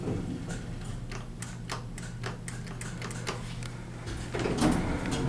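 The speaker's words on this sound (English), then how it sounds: "Listen to the relay." Relay of a vintage 1970s Dover hydraulic elevator in a historic granite building, clicking in a quick series of sharp ticks over a steady low machine hum, close by and moderately loud.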